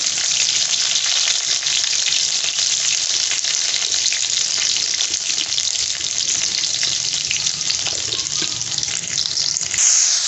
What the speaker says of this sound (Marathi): आता याच्यामध्ये लसूण टाकून घ्यायचा गॅस थोडा मोठा ठेवायचा